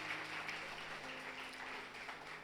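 Congregation applause at a church family service, a sustained, moderately distant clatter of many hands with a low hum underneath.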